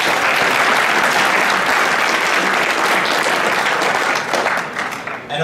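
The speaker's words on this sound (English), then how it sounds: "Can we give a huge round of applause for the bronze sponsors?" Audience applause at the closing ceremony of a student hackathon, LauzHack 2017 at EPFL, a dense, steady roar of many clapping hands from a full room that holds for several seconds before thinning slightly at the end.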